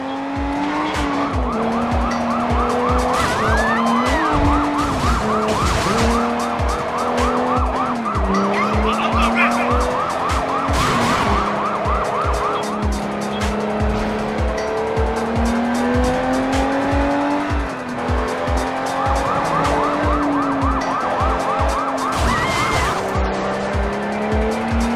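Car chase in the video game Sleeping Dogs with a police siren: engines roar steadily throughout, tires squeal and skid repeatedly, and a wailing siren rises and falls over the loud, continuous driving noise.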